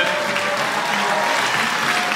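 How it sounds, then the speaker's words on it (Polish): An audience at an Academy of Fine Arts meeting with Andrzej Wajda at Przystanek Woodstock 2010 claps steadily for Krzysztof, a dense, even wash of applause with no break. "Brawa dla Krzysztofa za prowadzenie tej rozmowy."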